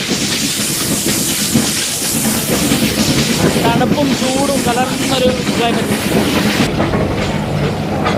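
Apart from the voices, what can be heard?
Nilgiri mountain train slowing down, Mettupalayam to Ooty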